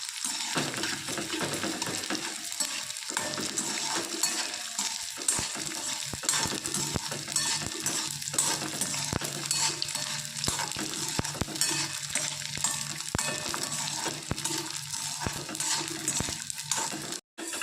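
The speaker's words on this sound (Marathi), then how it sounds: "मी डिंक तळून घेणार आहे त्यासाठी मी तीन चार चमचे तूप घेतलं आहे थोडे थोडे करून डिंक तळून घेणार आहे" Edible gum (dink) frying in a few spoons of ghee, added a little at a time: a steady close crackling sizzle with scattered sharp pops and scraping stirs, continuous throughout with no voices.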